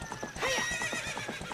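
Epona, the horse in Zelda: Ocarina of Time, gives a loud, clear whinny in Hyrule Field, a rising then trembling neigh lasting over a second, with steady rhythmic hoofbeat clip-clops running underneath.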